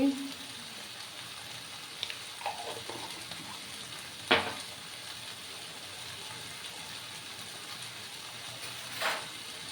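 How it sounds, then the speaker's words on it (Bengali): Spoon stirring cabbage and potato curry with garam masala and ghee in a pan, a soft scraping sizzle throughout with a few sharper clinks, steady and close, no one talking. "এবার দেখো সমস্ত কিছু আমি আবার ভালো করে মিক্স করে নিলাম।"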